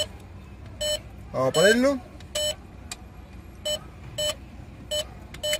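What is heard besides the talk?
ATM keypad beeps while entering data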